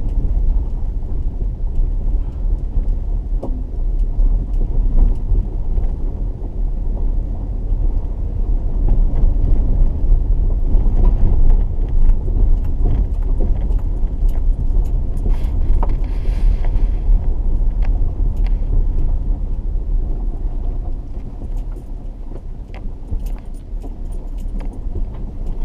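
A car drives slowly along a narrow one-lane rural road in New Brunswick, giving a steady close low rumble of engine and tyres with faint rattles and creaks from the cabin, continuous throughout.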